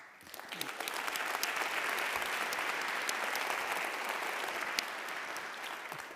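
Sustained audience applause from a large crowd at a university address, swelling in within the first second and holding steady, dense and even, for several seconds before easing slightly.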